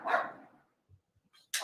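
A dog gives one loud, close bark that trails off, followed by faint soft sounds and the start of a second bark.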